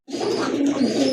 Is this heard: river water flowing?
no